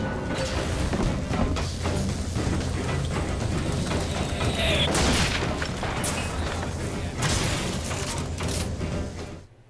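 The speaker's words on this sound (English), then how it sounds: "Watch out, rockets!" Rocket explosions boom and crash through a BioShock Infinite battle, heavy rumbling blasts layered with mechanical clanks and debris, loud and continuous before fading out at the end.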